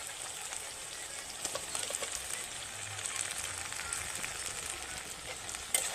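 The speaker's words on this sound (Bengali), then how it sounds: "এই সময় দিয়ে দেবো টমেটো কুচি।" Chopped tomato dropped into frying onions in hot oil in a pan, a steady close crackling sizzle that runs the whole time and stays even in level, with no talk over it.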